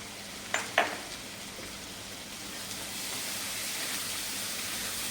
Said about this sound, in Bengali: পুরটা বেশ তৈরি হয়ে এসছে, এবার ভাজা ভাজা হয়ে গেছে